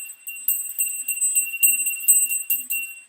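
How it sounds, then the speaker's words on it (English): A small handbell rung during a tarot reading session, a series of bright, shimmering rings repeating in quick clusters for about three seconds, alone without talk. "I'm going to do the bell again for group number 3."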